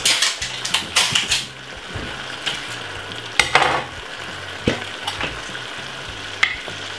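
Cabbage stir-frying in a pan with barbecue sauce, Jamaican style: a steady sizzle under sharp clacks and scrapes of a utensil stirring against the pan, loud and close, no talking.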